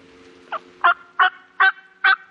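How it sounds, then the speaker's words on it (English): Distant wild turkey gobbling in a wide valley, answering a call: five gobble bursts at a steady pace, each louder than the one before, carrying clearly over quiet open-air background with no talk. "just see if that gobbler responds"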